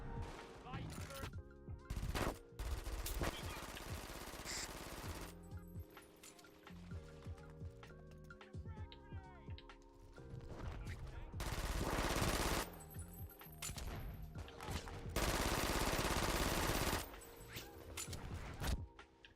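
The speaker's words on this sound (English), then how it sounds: "Light turret." A light turret machine gun in the 2011 video game Brink, long loud bursts of rapid fire broken by short gaps and other battle noise, with occasional speech in the mix.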